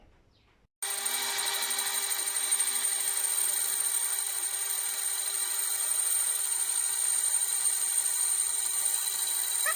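A lathe cutting tool turns a rusty brake disc, producing a steady, loud whine that starts abruptly after a short quiet moment and holds unbroken to the end.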